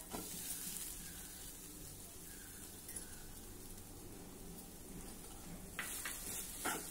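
Grated fresh coconut tipped into a pan of roasted poppy seeds, giving a steady soft sizzle and frying hiss with faint clinks and a few brief louder scrapes toward the end, no talking.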